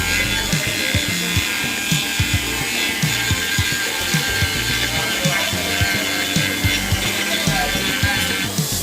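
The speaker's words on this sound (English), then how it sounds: "That's how you smoothen wood." A power tool works over wood, giving a steady buzzing rasp broken by short rhythmic scraping strokes, close and fairly loud, with no talking.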